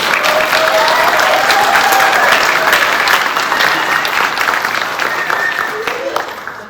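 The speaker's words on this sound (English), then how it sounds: "Let's give them a round of applause." A school audience applauds new National Junior Honor Society members at a 2021 induction ceremony, a loud, dense wash of clapping that holds steady and then thins slightly toward the end, with faint voices underneath.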